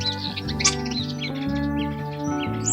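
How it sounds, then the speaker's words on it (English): Starling chirps and whistles flit along in quick, moderately loud bursts over a continuous tonal background. "Starling."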